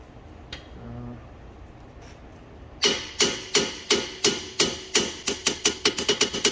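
After a quiet start, a string of sharp metallic hammer blows rings out on a Mazda ND Miata suspension part while fitting camber bushings, about sixteen hits, steady at first then quickening toward the end.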